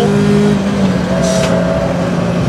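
A tuned, professionally remapped Peugeot 206 RC on a track gives a steady, loud engine drone with sustained harmonic tones across the whole stretch, briefly rising in pitch midway, with no talk over it.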